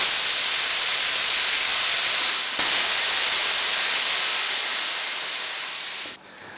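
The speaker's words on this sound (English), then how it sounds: "I'm going to deflate it now and then put the sealant in." Air hisses out steadily and loudly as a Schwalbe Pro One TT TLE tubeless tire on a Canyon Ultimate bicycle is deflated. After a brief dip the rush of air continues, then cuts off abruptly near the end.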